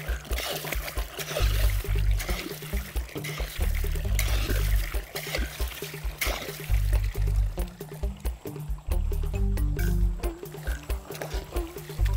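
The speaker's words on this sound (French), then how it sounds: "Pour irriguer, nous allons ouvrir la vanne et laisser l'eau passer pour l'irrigation." Irrigation water flowing from a PVC pipe after a valve is opened, a continuous splashing, gurgling pour with uneven surges, close by, with faint background noise and no talk.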